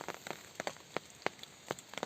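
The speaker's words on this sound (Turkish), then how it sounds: "Yağmur yağmaya devam ediyor." Rain patters onto a hammock camp in a deserted forest, soft irregular drops tapping close by at a faint level, with no voices.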